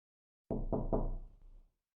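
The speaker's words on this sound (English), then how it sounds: "Louder knocks, faster, more insistent." Three quick, heavy knocks land on a door at close range, each booming and fading into a short resonant tail, loud against otherwise total silence.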